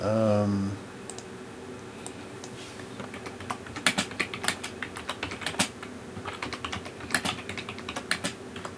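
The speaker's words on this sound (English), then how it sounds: "I'll just type that in quickly." Quick, light typing on a computer keyboard at a Windows PC, irregular bursts of crisp key clicks heard close up after a short bit of talk at the start.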